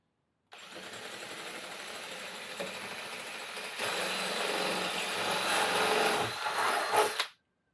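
A power drill bores through a motor home table top on a Swift Rio 340, a steady broadband whir running about seven seconds, growing slightly louder and rougher midway before cutting off, with no talk.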